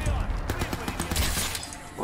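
Explosive arrow fired in Crysis 3 sets off a dense spray of blasts and crackling debris amid ongoing combat noise, with a voice talking over it throughout.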